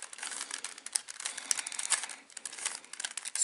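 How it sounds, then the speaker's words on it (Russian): A 3x3 Rubik's cube twisted in quick random turns to scramble it, a dense run of soft plastic clicks and rattling scrapes, close and fairly quiet, no talking. "Начинаем разбирать наш кубик. Крутим, вертим в любую сторону"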